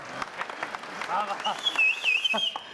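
Applause breaks out for a grandfather on a comedy show set: scattered claps that build into a fuller round, mixed with voices and a brief high whistle-like cheer partway through.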